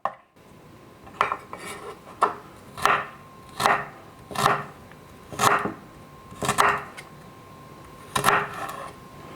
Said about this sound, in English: So with our ginger then, we want to be cubing it, but we want it small cubes, really small cubes.